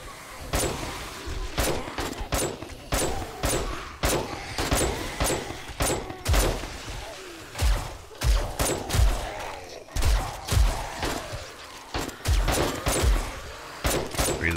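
Irregular bursts of gunfire ring out during horde night in 7 Days To Die, sharp loud shots in quick clusters with short gaps, some heavier booming thuds mixed in.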